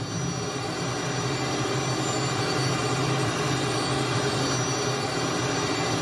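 A Cessna T-37B Tweet jet taking off in Microsoft Flight Simulator 2020, with a loud, steady turbine roar and whine holding constant throughout, no voices.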